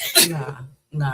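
A single sharp sneeze bursts out near the start, loud and close, followed by someone speaking a word.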